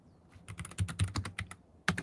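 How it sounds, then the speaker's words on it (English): Keys on a Bluetooth computer keyboard being pressed in a quick, irregular burst of clicks, near and moderately loud, ending with one sharper keystroke. "My Bluetooth keyboard turned on"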